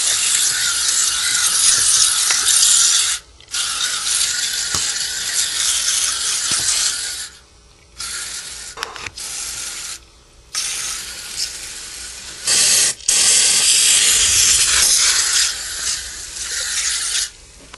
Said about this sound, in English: See how these coils are looking after just spraying on the solutions.